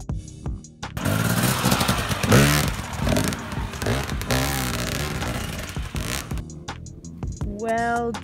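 A dirt bike on a trail climbs over a tree root, its engine revving up and down in rising and falling surges, close and loud, with clattering between throttle bursts.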